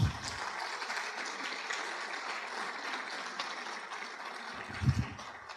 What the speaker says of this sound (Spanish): un aplauso todo el mundo ahí